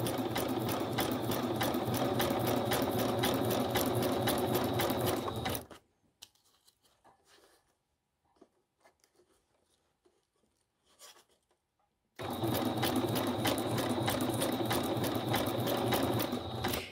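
Sewing machine stitching a junk journal belly band made from Christmas card punched squares, tulle and sequins: a steady, loud whirring run of stitches for several seconds, a quiet pause with faint handling, then another long continuous run.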